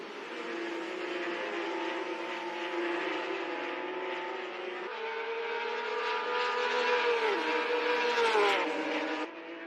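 Race cars in a virtual racing game, engines droning steadily with rising and falling pitch as they accelerate and shift, several cars blending into one continuous whine that dips sharply near the end.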